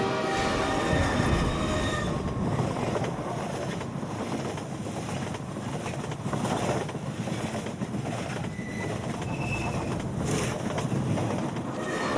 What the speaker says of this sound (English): if you're driving on the track, this train will actually drive into your car and you will die